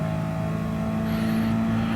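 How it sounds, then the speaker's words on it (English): A Mercedes-AMG race car in Gran Turismo Sport drones with a steady, sustained engine note on track during a GT League 4WD Challenge race, loud and close, with no voices. "That AMG is going to overtake"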